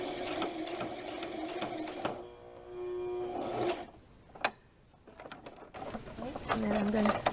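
Sewing machine stitching elastic on an eyelet blouse with satin trim, steady mechanical whirring in bursts with short pauses, close up; a faint bird cooing sits in the background.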